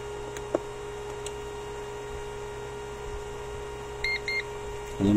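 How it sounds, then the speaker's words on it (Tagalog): A water vending machine beeps as its power supply is plugged in: two short, clear electronic beeps near the end over a constant mains hum, followed by a sudden thump. "Nag-beep siya."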